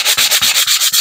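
Sandpaper rubbed against the edges of paper pages for a junk journal, smoothing knife-cut edges: six steady back-and-forth scratchy strokes in an even rhythm, close and fairly loud, with no talking.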